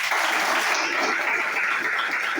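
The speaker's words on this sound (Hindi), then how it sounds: "आप लोग एक साथ में जबरदस्त तालियां बजाइएगा।" Audience applause at an MLS business plan seminar, a loud dense wash of many hands clapping together continuously, close and sustained throughout without gaps.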